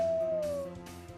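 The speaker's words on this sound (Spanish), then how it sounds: "aullido de luna llena" A prerecorded dog howl on a novelty cassette of canine sounds, one close, drawn-out wavering howl that slides slowly downward and fades.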